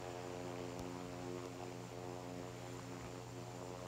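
Steady droning hum of an aircraft engine in the Infinite Flight simulator, a constant tonal propeller-like whine holding evenly at a moderate level with no other sounds.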